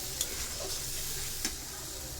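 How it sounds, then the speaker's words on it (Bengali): Shing fish curry with spices and cumin paste stirring and frying in a pan, a steady low sizzle with a couple of brief scraping clinks of the spoon, close and moderately loud with no talking. "আমি তরকারিটা ভালো করে শিং মাছটা কষায় রান্না করব"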